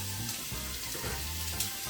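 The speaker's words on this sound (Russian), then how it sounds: "раскалю сковороду, обжарю баклажанчики" Eggplant pieces fry in a hot pan on a home stove, giving a steady close sizzle and crackle that runs through the whole stretch without a break.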